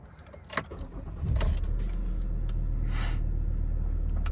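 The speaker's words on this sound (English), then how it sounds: "I'll just put my foot on the brake pedal and start the car up" A 2016 Ford Ranger XLS diesel engine starts after a few clicks and a brief crank, catching quickly and settling into a loud, steady low idle rumble close by.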